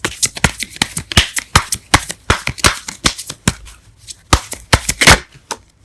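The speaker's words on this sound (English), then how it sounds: "Let's get one more card for the Devil." Tarot cards are shuffled and drawn at close range, a rapid, irregular run of sharp riffling slaps and flicks that continues throughout, with no voice.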